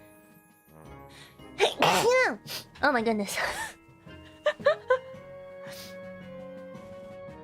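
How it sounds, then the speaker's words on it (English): A woman lets out one loud, sharp sneeze close to the microphone, followed by a few smaller gasping breaths and some brief talk. "I need to sneeze."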